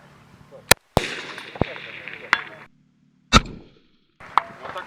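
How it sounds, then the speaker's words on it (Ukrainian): Sniper rifle shots on a military training range with targets at 400 and 550 metres, several sharp sudden cracks with short echoing tails spaced unevenly apart, heard at a distance, with faint voices between them. "Зараз я відпрацював три постріли на 400, всі влучно"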